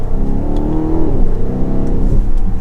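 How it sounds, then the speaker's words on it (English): A tuned V8 in a 2022 BMW Alpina B7 xDrive pulls hard under acceleration, its deep, smooth engine note climbing steadily in pitch, loud and continuous from inside the cabin. "So another acceleration."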